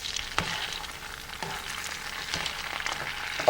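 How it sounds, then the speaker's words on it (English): Alligator meat sizzles and crackles steadily in a hot frying pan, with a few sharper pops and stirring scrapes along the way; no voices. "getting ready to go in a frying pan"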